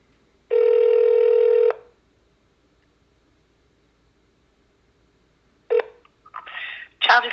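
A telephone call with a steady dial tone lasting about a second, then quiet, then a short tone and faint ringing or line sounds toward the end, on a call to Maine child and family services.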